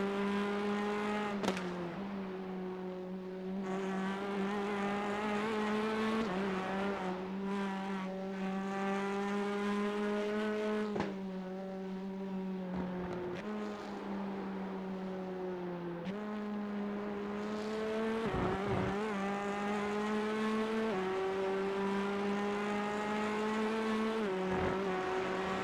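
Steady droning race car engines in the NASCAR Grid Rivals video game, a sustained harmonic whine with occasional brief shifts and dips, continuous throughout at moderate volume.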